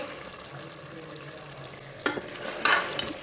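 Mutton masala with fresh coriander is stirred in a pot, a quiet simmer giving way to a couple of brief scraping, sizzling stirs toward the end, no one talking.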